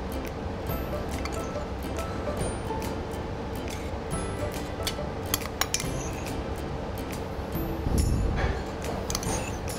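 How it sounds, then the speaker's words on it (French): Utensils scrape and tick against a dish while mixing ingredients for sardine mimosa with olive oil, a steady busy clatter of small metallic clinks, with occasional louder knocks and a brief low thump. "On va bien mélanger le tout, bien mélanger les ingrédients"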